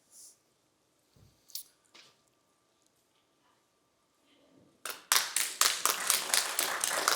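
An audience claps in a conference room: after scattered faint taps and a brief voice, a burst of steady, evenly spaced hand claps begins and keeps going, close and clear.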